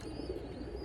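Pet pigeons coo softly in low, repeated throaty murmurs at night, heard faintly and close by with no talking.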